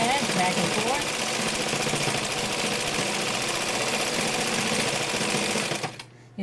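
An OmniStitch 2 sewing machine runs steadily, stitching big back-and-forth zigzag fill-ins with a dense, fast mechanical chatter, loud and close. It stops abruptly near the end.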